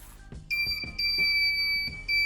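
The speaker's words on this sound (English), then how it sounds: "causes the buzzer to ring" A continuous high-pitched electronic buzzer tone from an ultrasonic sensor project sounds steadily, with faint low thumps beneath it.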